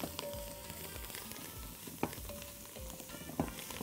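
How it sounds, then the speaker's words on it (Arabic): Garlic, onion and chopped green coriander sautéing in a pan, a continuous close sizzle and crackle with a couple of sharper pops, no talking. "الثوم مع البصل لما اتحمر كده، كزبره خضراء مفرومه، ونشوحها مع البصل شويه"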